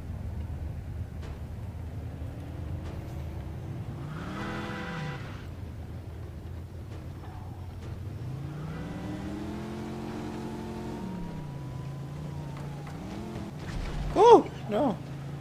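Engine of a vehicle driving in the 1940s-era game Mafia 2, a medium engine droning steadily with rising and falling revs as gears shift, moderately loud, with a brief sharp sound near the end and no talking.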